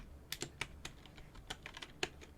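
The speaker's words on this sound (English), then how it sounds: "you can probably get my password from just listening to the key presses" Close-miked computer keyboard being typed on, roughly a dozen crisp, irregularly spaced key presses clicking sharply over a quiet room background, with no talking.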